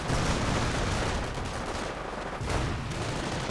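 Submachine guns rattle in a World War II strategy game as American Rangers fire on German Grenadiers. A dense, continuous wash of gunfire and battle noise fills the whole stretch at steady loudness, with no voices.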